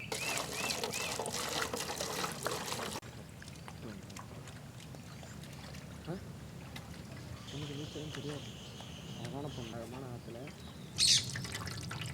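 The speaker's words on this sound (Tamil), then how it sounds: "இப்போ தலைவரை தண்ணி ஊற்றி அலசி எடுத்துப்போம்" Water pours and splashes over prawns in a bowl, with a short gush at the start and wet sloshing and drips afterward, nearby, while a person talks.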